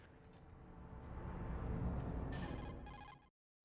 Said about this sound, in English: Oh, good, another phone call.